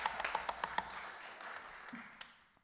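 An audience at a graduation music recital at MacEwan claps. A few sharp, scattered claps come first, then a softer, thinning patter fades away. The applause is faint and distant.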